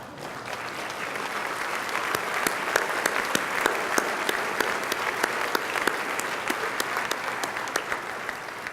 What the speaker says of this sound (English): I just want to give everybody to give them a round of applause